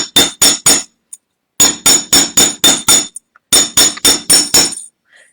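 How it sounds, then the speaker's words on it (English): A chasing hammer strikes metal on a steel bench block in quick bursts of three to five sharp, ringing, metallic taps, separated by short pauses, close and loud with no talking. "just using a chasing hammer."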